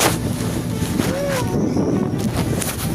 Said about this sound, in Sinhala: හැම විශාල රළ පහලකටම වදිල්ලේ බෝට්ටුව දෙකට බැලෙන්න වගේ